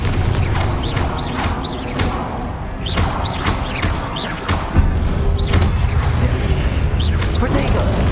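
Confringo fire-blast spells in Hogwarts Legacy, a run of loud bursts and crashing impacts with whooshing swells across a dense game mix, repeated every second or so.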